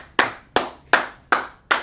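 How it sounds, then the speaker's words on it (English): A class claps in unison for students, five sharp, evenly spaced claps at a slow, steady beat, each with a quick fading tail and near silence between them. "Clap it up for both of them."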